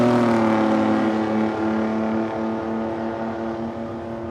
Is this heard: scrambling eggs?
no